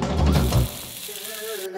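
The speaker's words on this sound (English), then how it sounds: "And we put in the meatballs to fry." Meatballs sizzle and spit in hot oil in a pan on a stove at maximum heat. A loud, dense frying hiss opens the clip and then eases into a softer sizzle over about two seconds.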